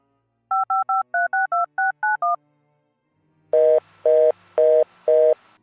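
Telephone keypad tones dial a number in the video game Art of Murder: a quick run of about ten short beeps, then a pause and four long, louder ringing tones, with no talking.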